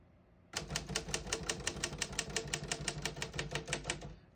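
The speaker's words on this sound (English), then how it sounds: "We're going to keep it on single and finish typing." A 1953 Royal HHP manual desktop typewriter, set to single spacing, clacks in a quick, even stream of keystrokes, close and crisp, after a brief quiet start.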